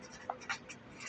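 Chalk or marker strokes on a board during a spoken English lesson, a few short scratchy marks with brief pauses, faint and close, no talk over them.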